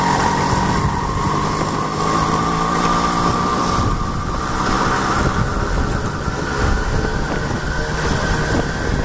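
A Riga 13 moped engine pulls away after the clutch is released, its loud, steady two-stroke drone running close and continuous throughout with no speech.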